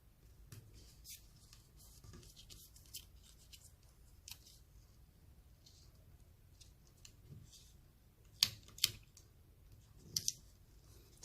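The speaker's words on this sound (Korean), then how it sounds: "남은 구리 테이프는 가위로 잘라주세요" Scissors snip through leftover copper tape while assembling an LED paper house kit: quiet rustling, then a few sharp, close cutting clicks near the end.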